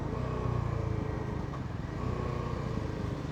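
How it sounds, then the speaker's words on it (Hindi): An NS400z motorcycle rolls at slow speed with a steady engine drone and a faint buzz from the fuel tank area, continuous and moderately close with no clear change in pitch. "मैं स्लो स्पीड में हूँ, एक बजिंग साउंड आ रही है"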